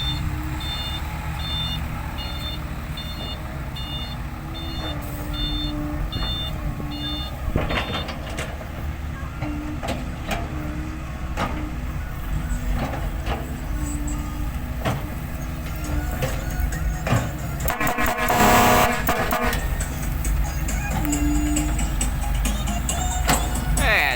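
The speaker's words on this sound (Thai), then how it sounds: "ท่อ นี่ดังลั่นเลยครับนี้" A loud, rumbling dump truck engine with loud exhaust roars steadily up close, with a repeating reversing beep early on and occasional clanks over the din.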